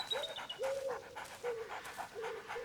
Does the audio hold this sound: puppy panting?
yes